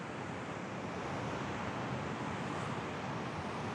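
Surf rolls on Jaco beach in Costa Rica, a broad continuous roar of waves and wind with no distinct breaks, steady and moderately loud throughout.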